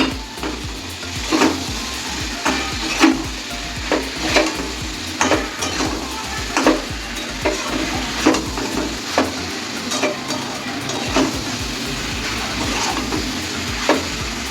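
Young jackfruit is tossed into well-fried spice paste in a pan and stirred, giving a continuous sizzle broken by regular scraping strokes of a spoon against the pan.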